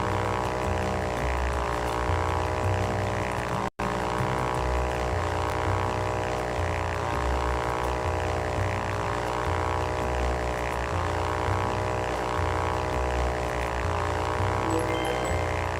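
A propeller plane in Ultrawings drones steadily in flight, its engine hum loud and constant with a harmonic buzz, broken by one brief dropout near the start.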